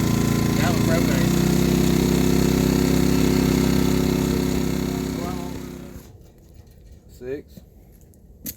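A classic houseboat's engine runs loud and steady after starting, a droning idle that fades and cuts out after several seconds, leaving quieter knocks and a person speaking.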